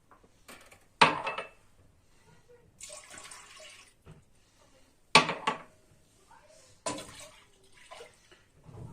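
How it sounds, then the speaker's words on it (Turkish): Milk pours in short splashing bursts into a metal pot, with clinks of a glass between pours, close and fairly quiet. "3 bardak sütümüz var arkadaşlar. Bunu tenceremize boşaltıyoruz öncelikle."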